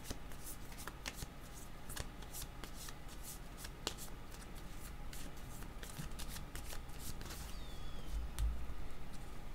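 Tarot cards being shuffled by hand in a steady run of quick riffling bursts, close and fairly quiet, with no talking over them.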